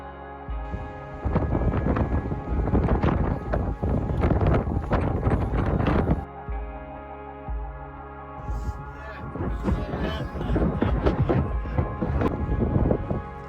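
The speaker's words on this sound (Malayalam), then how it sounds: "ഇപ്പോഴും നല്ല ശക്തമായ കാറ്റും മിസ്റ്റും ഒക്കെ ഉണ്ടായിരുന്നു" Strong wind with mist blows across the sea cliffs at South Stack in North Wales, roaring and buffeting the microphone in loud gusts, easing briefly midway before surging again.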